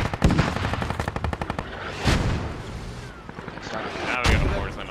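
Rapid bursts of video-game gunfire, including heavy machine-gun rattle, punctuated by booming mortar explosions, loud and continuous in a military shooter battle over a compound.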